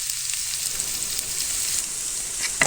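Onions sautéing in a pan for a Kerala-style chicken fry, a steady crackling sizzle throughout with a brief louder scrape near the end, no voices.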